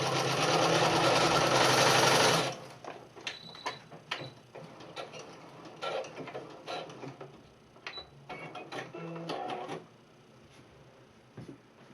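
A sewing machine runs fast and loud for a couple of seconds while stitching the seam of a basic fabric mask, then stops and gives way to scattered clicks and handling noises.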